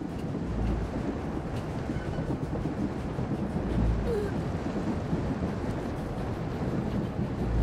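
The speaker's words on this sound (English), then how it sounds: "Stop the train, Theron." A train rumbles steadily in a Star Wars video game scene on Umbara, a dense, continuous low roar with clattering texture and a deep throb underneath, loud and unbroken throughout with no speech.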